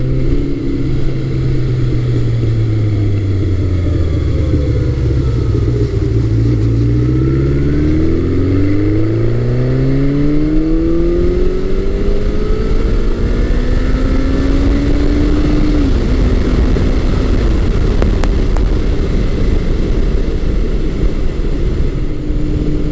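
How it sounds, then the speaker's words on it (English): A 1984-1986 Honda Nighthawk 700S motorcycle engine revs hard at high RPM while riding, its loud pitch sweeping up and down through gear changes over steady wind and road rumble, with no talking. "This motor really sings when you get it up into the higher RPM range."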